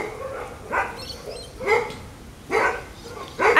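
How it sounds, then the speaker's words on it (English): Big dogs bark in four separate loud bursts, about one per second, outdoors on a wet day, with no talking over them. "Hear the dogs bark."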